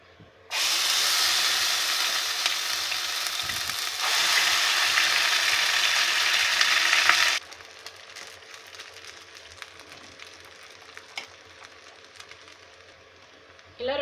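Coconut rotti batter hits hot oil in a pan for a traditional village breakfast, setting off a loud, steady hissing sizzle for several seconds that then settles into a quieter, softer crackle.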